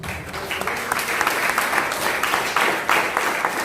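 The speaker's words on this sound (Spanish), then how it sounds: "Dale las palmas al Señor." A Pentecostal church congregation claps for the Lord in loud, steady, dense applause with slightly rhythmic surges, and no voices stand out.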